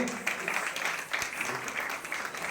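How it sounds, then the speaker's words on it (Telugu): An audience at a journalists' Dasara celebration claps steadily, a soft continuous patter of many hands with no clear pauses. "అందరూ క్లాప్స్ కొట్టాలి"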